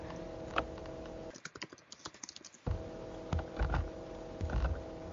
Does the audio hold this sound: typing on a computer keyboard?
yes